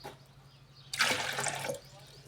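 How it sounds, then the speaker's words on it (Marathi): Water poured into a mixer jar for mint sherbet, a short steady splash and gurgle lasting under a second, fairly close and alone. "हे पाणी याच्यामध्ये ओतून घ्यायचं मिक्सरच्या भांड्यामध्ये."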